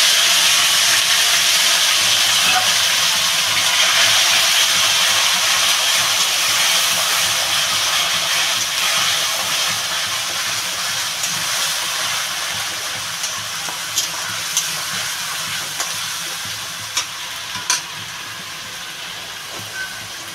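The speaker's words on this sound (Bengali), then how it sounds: "রসুন, আদা, কাঁচা লঙ্কা পেস্ট রয়েছে, এটা আমি এবার এর তেলের উপরে দিয়ে দেবো।" Garlic, ginger and green chili paste sizzling and hissing in hot oil, a steady broadband fry that stays loud throughout with a few sharp pops spattering near the end, no talking.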